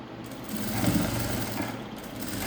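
A sewing machine stitching a puff sleeve, running in a steady rapid mechanical whir with a slight swell in the middle, fairly close and alone without talking.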